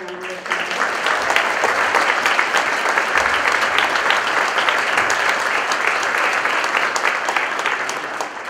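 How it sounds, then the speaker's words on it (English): Audience applause at a high school winter concert, a dense, steady wash of clapping from a large crowd that swells in quickly and holds loud and even throughout. "So if we could just give them another round of applause."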